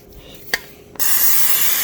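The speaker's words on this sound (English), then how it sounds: "Again, put a little cooking spray on it" Cooking spray misted over sourdough rye boule dough, a short click followed by a steady, close, loud hiss of aerosol spray that runs to the end.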